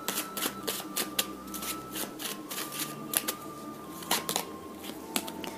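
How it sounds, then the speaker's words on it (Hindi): Tarot cards shuffled in a steady run of soft riffling flicks and slaps, close and fairly quiet, with no talking. "शफल,"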